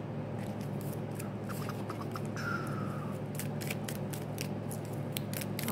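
Tarot cards shuffled by hand, a rapid run of light crisp ticks and flicks, close and quiet, alone over a steady low background hum.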